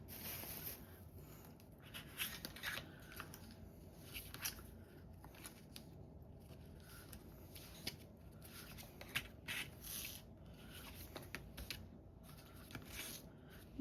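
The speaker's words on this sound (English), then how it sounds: "I'm going to cut this heart out" Scissors cut out a paper heart for a junk-journal tag, giving a series of faint, quiet snips and rustling paper scrapes at an uneven pace.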